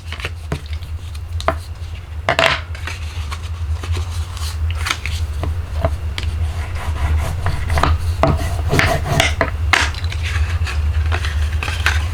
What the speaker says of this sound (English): we are going to go ahead and fold and burnish our wrap on those score lines